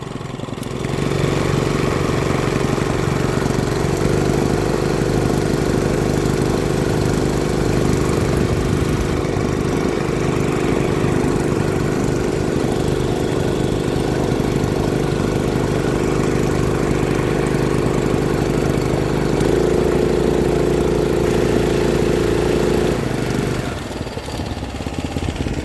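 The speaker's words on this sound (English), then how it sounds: "And here is the motor. This particular motor is made by a company called Rato." A Rato outboard boat motor runs steadily and close by for the whole stretch, a loud, even engine drone with a steady low hum that rises briefly in pitch near the end before easing off.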